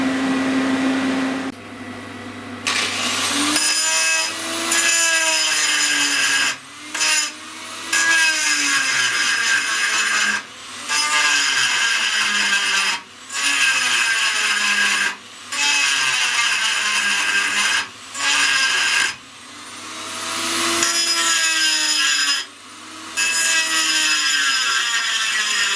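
Die grinder cutting into the damaged case of a Velocette motorcycle engine, a loud sustained high whine that rises and falls in pitch across repeated passes with brief pauses between cuts.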